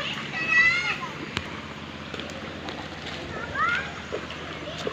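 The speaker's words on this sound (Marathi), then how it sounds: "पोरं बघा कशी चालतात ते, एकदम चिखलात" Children wade and splash through a muddy, waterlogged paddy field during monsoon rice transplanting in Konkan, with soft slopping footsteps and a couple of louder splashes under steady outdoor background and distant voices.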